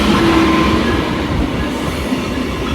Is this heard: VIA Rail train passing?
yes